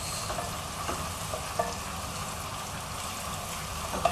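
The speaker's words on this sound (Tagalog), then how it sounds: "At mekos-mekos natin hanggang sa lumambot ang sibuyas." Onion and garlic powder sauté in oil for black-eyed beans, giving a steady, close sizzle with faint stirring clicks and a couple of brief utensil taps, and no voices.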